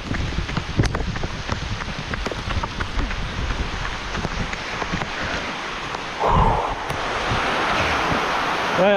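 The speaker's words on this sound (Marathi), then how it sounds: "पाऊस आता जोरात येता, आवाज येता." Heavy monsoon rain pours down outdoors, a dense, steady roar with scattered louder patters and splashes that swells briefly near the end.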